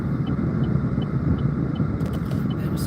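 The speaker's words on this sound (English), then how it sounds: "There was all this traffic on my block," Steady low rumble of road traffic on a residential block, a continuous even drone with no distinct passes standing out.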